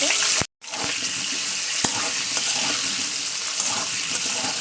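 Potato pieces dropped into hot oil, a sustained loud sizzle and crackle after a brief pause at the start, with a few sharp clinks of utensils.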